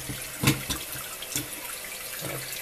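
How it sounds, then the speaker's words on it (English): Water from a tap runs into a bathroom sink drain being cleared of hair clogs, a steady close rush with a few brief splashes and knocks, no talk. "So you want to run some water to let the rinse things down."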